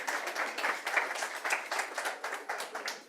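Sustained audience applause at a barista championship heat in Cardiff, a dense, pulsing patter of many hands clapping, moderately distant and fairly soft, with no voices over it.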